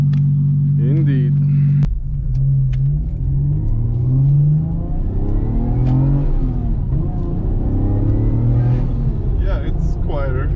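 A turbocharged Lexus IS200 with an upgraded exhaust pulls away and drives, its deep bassy engine note rising and falling through gear changes, with people talking over it inside the car.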